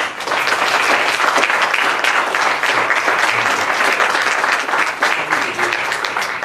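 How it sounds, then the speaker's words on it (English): An audience breaks into sustained applause for a guest at a talk on humour in Bright Ackwerh's Abonsam cartoons, dense and loud clapping filling the room steadily without pause for several seconds. "I want us to again give a special applause to our guest first"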